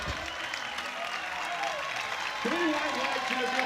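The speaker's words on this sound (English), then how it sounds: "the whole crowd is cheering for him" A crowd at a classic powerlifting championship cheers and applauds a successful lift, sustained clapping and shouting that grows louder toward the end, with a commentator's voice talking over it.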